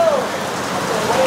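Dense, hissing rainfall pours steadily and close by, a constant wash of sound with a faint tonal whine drifting through.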